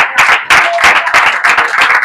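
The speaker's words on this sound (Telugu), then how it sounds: "చప్పట్లు కొట్టండి అందరూ" A church congregation applauds during a Telugu pastor's sermon, with rhythmic bursts of clapping in unison that are loud, close and continuous throughout.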